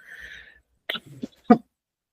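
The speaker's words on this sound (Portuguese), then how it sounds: "desculpa que eu tô tossindo" A couple of short, muffled coughs close by, small and quick, after a brief moment of quiet.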